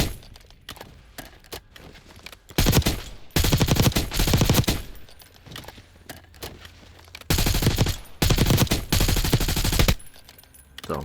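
Gunfire in Call of Duty Black Ops 6 arrives as two long, loud automatic bursts, each a few seconds, separated by quieter gameplay sound.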